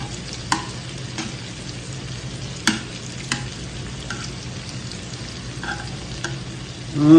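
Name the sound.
shrimp frying in a pan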